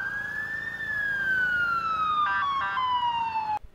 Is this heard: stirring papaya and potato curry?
no